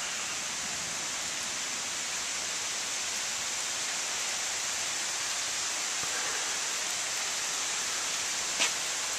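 Heavy rain pours down during a summer rainstorm over a vegetable garden, a dense, steady hiss with no breaks, broken only by a single faint tap near the end.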